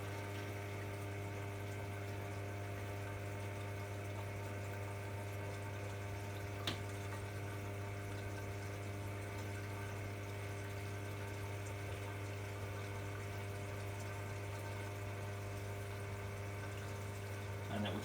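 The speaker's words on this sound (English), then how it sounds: "Now it will drain." A Candy Smartpro washing machine in service mode drains, its pump giving a steady low hum with a faint watery undertone that stays constant for about eighteen seconds, with one brief click midway.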